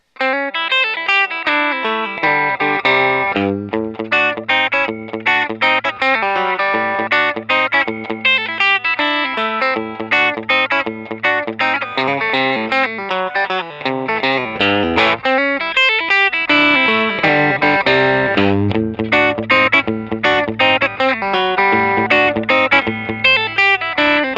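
An electric guitar plays a continuous run of chords and notes through a driven Fender Deluxe tube amp, with thick distortion and a shimmering modulated tone.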